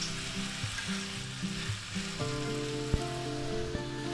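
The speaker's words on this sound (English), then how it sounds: "I stir them around a little bit" Two cans of whole Vienna sausages fry in a pan with garlic and vegetables, a continuous sizzle punctuated by a few clunks and taps from stirring, close and moderately loud, with no one speaking.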